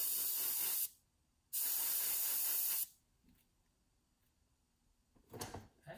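Spray paint hitting a Tamiya Ducati scale model part in two loud hissing bursts, separated by a pause, then quiet with light handling noises at the end.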